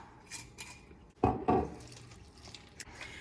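Half a cup of Stella Rosa Stella Peach white wine is poured into peach pound cake batter in a kitchen, giving a short liquid splash and trickle of about half a second over a quiet background.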